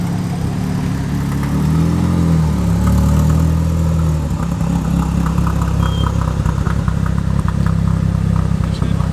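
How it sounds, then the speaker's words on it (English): A rare Ford RS 1600i, about 1982, rolls into a classic car meeting behind a Mini, its mid-pitched engine humming steadily and close by while surrounding motors idle. "RS 1600i following the Mini in."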